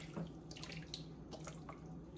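Water pours steadily from a cooking pot of Middle Eastern rice as it is drained, a continuous close splashing wash with small irregular splatters and no voices.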